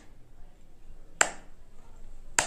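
Finger snaps aimed at a homemade clap switch circuit: two sharp, close snaps roughly a second apart, with quiet room tone between them.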